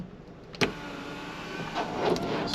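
Power sunroof on a 2022 Volvo S60 B5 Momentum sedan sliding back, a faint steady electric motor whir inside the cabin after a sharp click, with soft rustles near the end.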